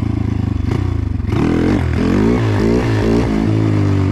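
A motorcycle engine roars loud and close, revving hard then holding a strained, rising drone as the rider lifts into a wheelie, with shifting pitch and a rough clattering edge.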